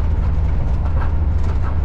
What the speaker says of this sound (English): That train has just taken off.